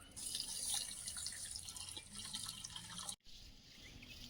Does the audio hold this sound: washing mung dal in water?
yes